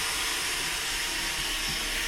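A Roomba robot vacuum cleaner runs with a steady close whir and hiss that holds without a break for the whole stretch, with no voices over it.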